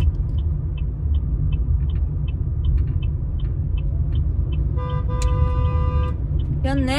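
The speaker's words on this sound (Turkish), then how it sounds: "Korna çalıyor ya." A car horn sounds in a sustained blast and then a second tone, over steady engine rumble and road noise inside a moving vehicle, with regular ticking.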